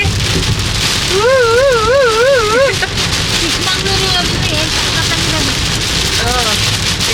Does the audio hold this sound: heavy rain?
yes